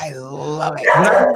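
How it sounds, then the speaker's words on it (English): A dog barks sharply near the end while someone talks close by. "Sorry about the barking."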